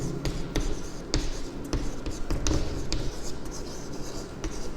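A math lesson on coordinate geometry, with someone writing on a board: a steady run of short, close scratchy strokes and taps, in irregular bursts, with no speech.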